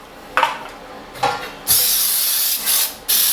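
Pam Perfect Release baking spray sprayed into baking pans: several short hissing bursts, the last few longer and louder, close up with brief pauses between.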